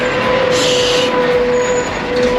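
Road traffic beside the Thames bridge in Abingdon, heard as a steady, loud wash of passing vehicles with a brief hissing burst like a truck's air brake partway through.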